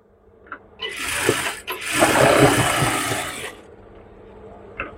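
An electric sewing machine stitches a seam on a pajama, whirring in two close bursts of a few seconds each with a short pause between, amid faint handling clicks.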